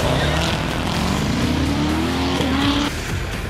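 A Mercedes-AMG E63s launches in a drag race against a Corvette Z06, its engine roaring loud and close and rising steadily in pitch as it accelerates, then dropping off near the end, with crowd noise underneath.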